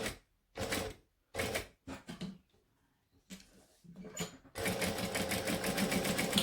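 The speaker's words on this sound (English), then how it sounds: "Now I'm going to go back over the lines that I originally sewed" A sewing machine stitches back over earlier seam lines on a bag's strap connectors in several short, loud bursts with pauses, then settles into one longer continuous run, close up and with no voices.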